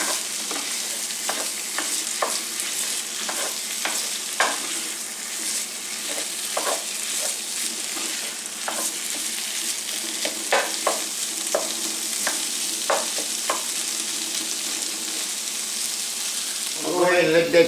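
Onions frying in olive oil for spaghetti meat sauce give a steady, close sizzle throughout, with regular scraping strokes from stirring and a louder clatter at the very end.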